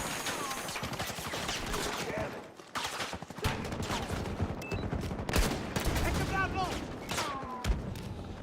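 Hip-fired MP9 submachine gun bursts in the shooter game Battlefield 6, rapid close rattling volleys repeating throughout amid other battle effects, with a voice talking over parts of it.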